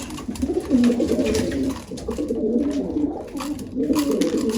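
A male pigeon coos repeatedly beside a female just released into the loft, rolling low calls coming in close, steady bursts with little pause and no talk.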